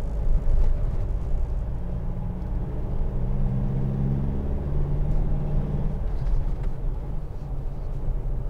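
A 2014 Mitsubishi L200 Trojan double cab pickup with its 2.5 DI-D diesel engine pulling uphill at just over 1,000 rpm and about 30 mph: a steady deep thudding drone with road rumble, heard from inside the cab.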